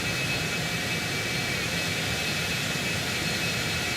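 Cessna Citation X jet engines taxiing in a flight simulator game, a steady broadband roar with a faint high whine, constant and unbroken throughout.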